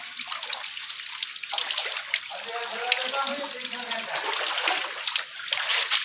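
Water runs and trickles steadily throughout, with gurgling tones partway through and faint background noise.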